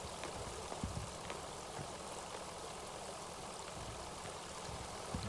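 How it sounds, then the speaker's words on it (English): Water flows and trickles steadily in a mine area in the game Kentucky Route Zero, a continuous close wash with light splashes throughout and no speech. "Oh, water."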